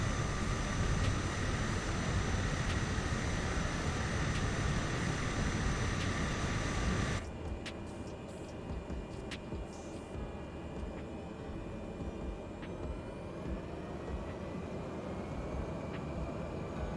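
Light aircraft engine under takeoff power on a short Himalayan mountain runway, flaps set for a short takeoff. It makes a loud, steady drone, then drops abruptly to a quieter, sustained hum about halfway through.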